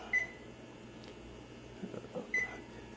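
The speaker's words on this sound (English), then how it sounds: "So we're gonna set the timer." Oven timer being set while caramel corn bakes: two short, thin electronic beeps about two seconds apart, heard alone against faint room hum.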